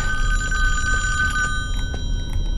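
An old bell telephone rings steadily in a creepy basement in the video game Friday the 13th, its bright repeating trill sustained throughout over a low rumbling game background.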